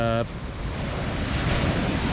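Ocean waves roll in at a seashore in Thailand as a steady, loud wash of surf mixed with wind buffeting, with no voices.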